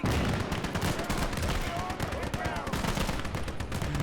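A Battle of the Bulge fight in the Gates of Hell video game: dense, continuous rifle and machine-gun fire mixed with artillery booms, loud and relentless, with voices under the din.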